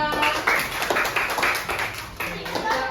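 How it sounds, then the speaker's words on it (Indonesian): A fifth-grade classroom breaks into clapping for a student group, a run of fairly loud, irregular claps from several children with talking mixed in. "Mana tepuk tangannya?"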